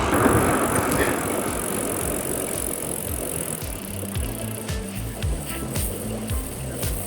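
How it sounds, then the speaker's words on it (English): Bicycle freewheeling down a long mountain descent from Baralacha La toward Sarchu without pedaling, a continuous rolling tire whir and hub ticking with rattles and wind rush, steady throughout with no talk. "Bicycle is running itself."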